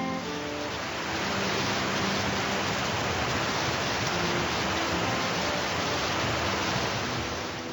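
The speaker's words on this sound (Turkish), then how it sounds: "Yağmur damlacıkları cama vuruyordu" Steady rain patters densely against window glass, a constant hiss of many drops close by, with a faint tune underneath and no talking.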